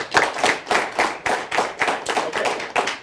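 Audience applause at a live televised studio event, a burst of many hands clapping steadily and fairly close for about three seconds, with no talk over it.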